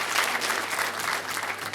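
Audience applause at a family celebration ceremony, a short steady burst of many hands clapping together, fairly loud and close.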